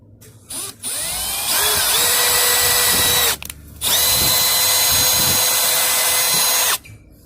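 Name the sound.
power drill drilling holes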